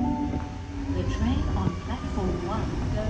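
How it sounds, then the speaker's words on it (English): A train rolls in close by at a Sydney station platform with a continuous low rumble and faint metallic squeals, amid the busy hum of a station. "Oh, this looks like it's my train."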